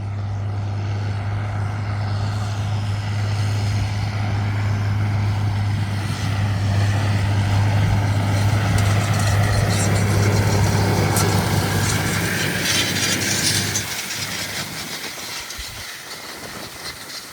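Heavy John Deere 7810 tractor engine, pulling a 15 m Claydon straw rake, droning steadily and loudly with a low constant hum, then easing and fading toward the end.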